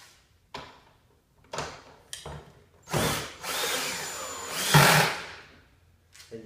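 A power drill drives screws into the handle section of a 14-inch Earthwise snow thrower during assembly, heard as several short whirring bursts with pauses and a longer final run, close and fairly loud with no talking.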